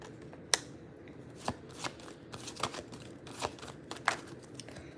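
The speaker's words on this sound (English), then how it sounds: "These are like barely shuffling" A tarot deck being shuffled during a live reading, with a series of crisp, irregular card riffles and slaps, fairly close and alone without talk.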